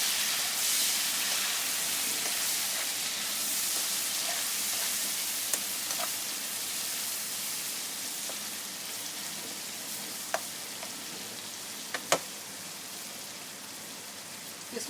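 Tomatoes hit hot masala for a degi-style chicken korma, giving a steady, close sizzle and fry with occasional sharp clicks and pops of the pan throughout.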